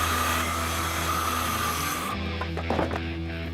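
Wooden ramp transitions for skate step-ups being cut, giving a close, steady rasping, sawing grind that halts partway through, followed by a few scraping knocks.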